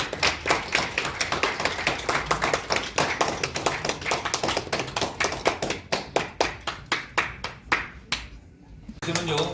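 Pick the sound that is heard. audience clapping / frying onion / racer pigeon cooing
audience clapping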